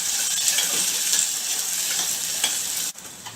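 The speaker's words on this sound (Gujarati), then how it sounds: "હવે આપણી ડુંગળી સંતળાઈ ગઈ છે" Chopped onions sauté in a hot pan with oil, a bright steady sizzle stirred close by with a spoon, faint scrapes over the frying before the sound cuts out near the end.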